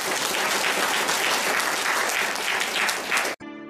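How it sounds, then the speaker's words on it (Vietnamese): An audience breaks into loud, dense applause that runs steadily and ends abruptly, cut off at the close. "Xin quý vị một tràng pháo tay cho JP."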